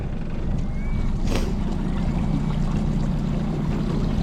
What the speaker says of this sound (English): It's in gear, idle all the way down, and then you hit this RPM button up